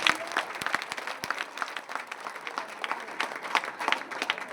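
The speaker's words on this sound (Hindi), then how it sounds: "हमारे बेटी ला जोरदार ताली से स्वागत करें" A crowd at a Chhattisgarh public speech event gives sustained, moderately loud applause to welcome a girl, steady clapping throughout with a few sharp individual claps.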